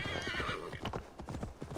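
A horse in Assassin's Creed Valhalla whinnies loudly, then its hooves clop in a steady, quick rhythm, close and clear over a constant game background.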